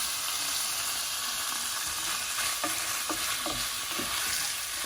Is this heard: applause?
no